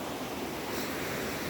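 A forest stream runs beneath a bridge, a dense, steady rush of flowing water close by, continuous and even with no voices.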